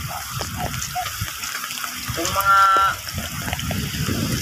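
Sea waves surging and splashing against a tetrapod breakwater, a steady wash of water with a louder burst midway, while people talk nearby.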